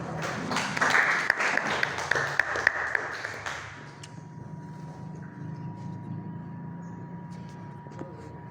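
A classroom of students claps for several seconds, a dense burst of hand claps that fades into a quiet room with a faint steady hum.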